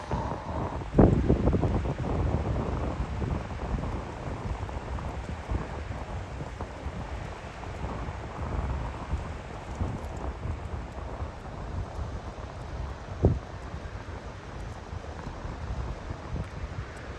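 Gusty wind buffets an outdoor microphone on a damp day with scattered rain, a steady rushing roar with a couple of sharper thumps from wind gusts.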